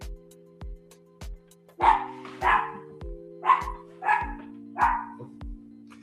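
A dog barking five or six times at a moderate distance, each bark a single muffled woof spaced about half a second to a second apart, over faint steady background hum and regular clicking.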